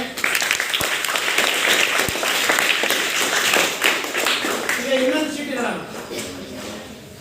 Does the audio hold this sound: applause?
yes